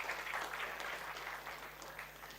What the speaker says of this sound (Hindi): शुभम के लिए ताली बजाओ यार